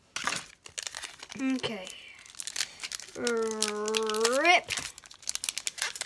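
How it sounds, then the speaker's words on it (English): Pokemon Ultra Prism booster pack foil wrapper being crinkled and torn open in short bursts, mixed with close, animated talking and exclamations. "My goodness, I could never open this."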